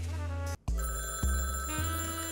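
A telephone rings repeatedly in the Hot Tin Roof video game, an electronic bell tone in steady bursts with a brief silent gap near the start, loud and alone with no talk.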